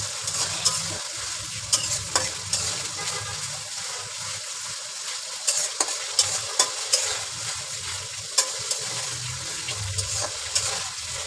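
Ground spice paste frying in a pan for chicken biryani, with a continuous close sizzle and sharp intermittent scrapes and clinks as it is stirred, and no voices.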